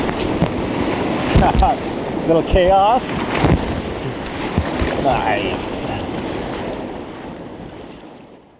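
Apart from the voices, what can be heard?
whitewater river rapids on the Trinity River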